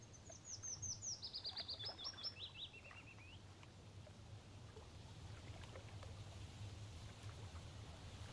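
Birds chirp in a quick descending series early on, then fade, leaving a steady low outdoor hum and faint rustling ambience.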